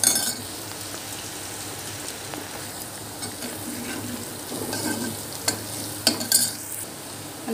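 A spoon stirs a frying mixture with turmeric in a pan, giving soft sizzling under irregular scraping strokes and a few sharp clinks of utensil on metal, close and alone.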